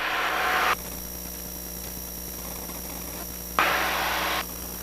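Steady droning engine of a light aircraft on approach to a 5,000-foot runway at Potomac Airpark in Berkeley Springs, West Virginia, with broad rushing noise that swells at the start and again near the end.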